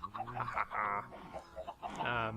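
Minecraft chickens clucking in a chicken farm, several short clucks and squawks in quick succession, close and fairly loud, with no talk over them.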